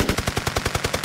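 A weapon fires a rapid 15-round burst, heard as a tight string of loud, evenly spaced shots with no pause, recorded up close for game sound design.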